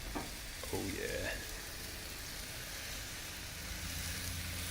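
Teriyaki-glazed, bacon-wrapped pork tenderloin cooking over dying charcoal, giving a steady, quiet sizzle and crackle throughout with a few faint clinks early on.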